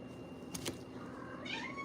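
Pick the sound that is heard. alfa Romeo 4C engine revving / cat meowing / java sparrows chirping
cat meowing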